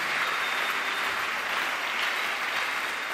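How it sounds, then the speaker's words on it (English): Congregation clapping together at a church worship service, a steady, dense wash of many hands sustained throughout without any voices standing out. "Clap for Jesus."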